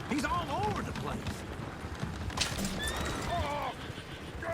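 Horses whinny and neigh repeatedly with squealing calls over a busy bed of hoof clatter and commotion in the Red Dead Redemption 2 video game, with voices mixed in.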